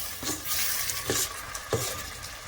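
A spoon stirs turmeric and salt through sizzling food in a cooking pot, giving a steady frying hiss broken by a few soft scrapes and knocks at irregular moments.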